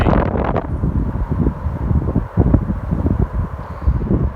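Strong gusty wind battering the microphone in loud, uneven bursts at an outdoor tree-planting site in Baldonnell, Ireland, rough and continuous throughout.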